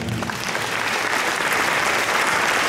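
An audience at a jubilee ceremony in the Polish municipality of Pakosław breaks into dense, steady applause that fills the room at an even loudness for a few seconds, with no voices heard.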